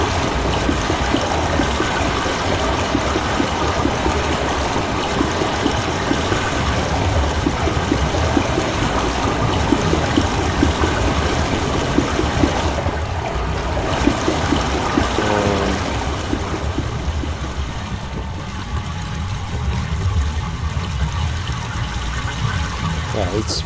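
Water rushes steadily through channels in the video game Myst, a continuous hissing flow that thins out toward the end, with a voice talking over it.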